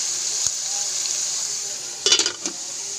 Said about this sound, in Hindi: अब हम इसको थोड़ी देर भूनेंगे, उसके बाद इसमें आलू शामिल करेंगे।